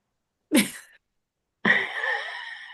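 One sharp sneeze, then a short pause and a brief voiced sound that trails off. Quiet otherwise.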